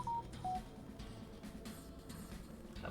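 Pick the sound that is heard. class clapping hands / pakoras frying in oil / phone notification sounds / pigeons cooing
phone notification sounds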